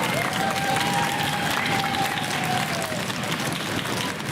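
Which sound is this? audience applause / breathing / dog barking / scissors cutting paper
audience applause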